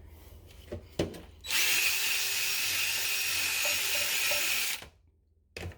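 A power drill fitted with a scrub brush whirs as it scours a bathroom sink, a few faint knocks and then one loud, steady high-pitched burst lasting about three seconds, stopping sharply before a brief knock at the end.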